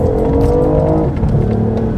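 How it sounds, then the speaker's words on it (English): A BMW i8 hybrid sports car engine roars loudly as it accelerates at full throttle, its pitch climbing steadily with a brief dip midway before pulling hard again. "as you floor it, the engine kicks in."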